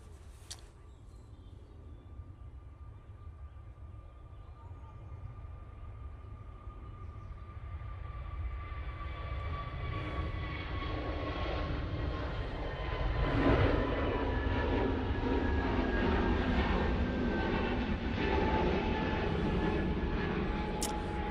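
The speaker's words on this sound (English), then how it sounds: "EasyJet A321 Neo now departing." An EasyJet Airbus A321neo departs Manchester Airport, its jet roar building steadily from a distant rumble to a loud, sustained thunder, with high whining engine tones running through it and no voices.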